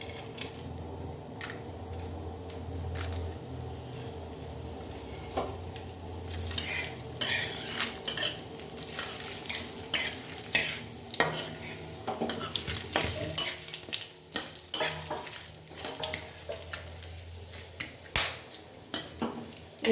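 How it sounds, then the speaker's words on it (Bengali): Whole spices (mace, cinnamon, cardamom, peppercorns, bay leaf, cloves) fry in oil in a pan for Bengali sweet pulao, a steady sizzle under scraping and stirring, with sharp clicks of the utensil growing busier and louder toward the end. "অয়েল দিয়েছি, তাতে 1 টুকরো জয়িত্রী, দারচিনি, এলাচ আর গোলমরিচ এবং তেজপাতা, লবঙ্গ সমস্ত কিছু ওখানে দিয়ে দিলাম।"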